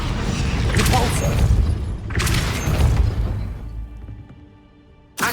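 A Depulso spell cast in the video game Hogwarts Legacy: two loud, rumbling, whooshing blasts follow one another and then fade into a softer tail, with another sharp burst at the very end.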